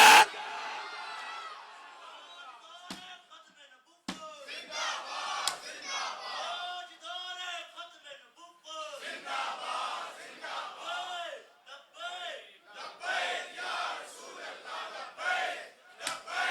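A crowd at a religious gathering chants slogans in unison, with loud rising and falling group shouts that answer each other in waves and continue steadily.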